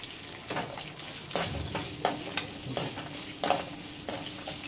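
A spice tempering of peanut chutney with asafoetida frying in oil, stirred with a spoon against the pan in a series of sharp scraping knocks over a faint, steady sizzle, with no voices.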